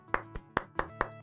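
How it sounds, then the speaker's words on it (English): Slow, quiet golf clap from a single person: five sparse, soft claps spaced roughly a quarter second apart, close and dry with no talking. "Golf clap."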